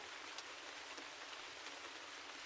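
Steady rain falls in a soft, even hiss with occasional faint drop taps, quiet and uninterrupted throughout.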